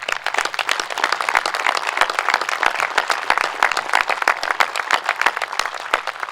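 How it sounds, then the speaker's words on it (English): Audience applause for veterans at a Vietnam memorial ceremony in Lucchesi Park, a steady outdoor patter of many hands with sharp individual claps standing out, sustained and fairly close throughout. "please give them a round of applause right now"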